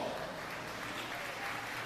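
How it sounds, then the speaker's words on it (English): Crowd applause at a county youth fair and livestock show, a steady wash of clapping for the kids, fairly quiet and even with no pauses. "Let's give all these kids a round of applause"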